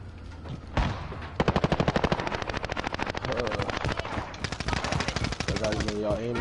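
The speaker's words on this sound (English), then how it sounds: "I can't shoot for shit with this assault rifle." Rapid automatic assault rifle fire from the Modern Warfare video game, with long rattling bursts of closely spaced shots running almost continuously and loud in the foreground.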